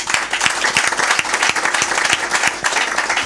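A church audience gives a steady burst of applause for the young people, many hands clapping continuously at close range, with no talk over it.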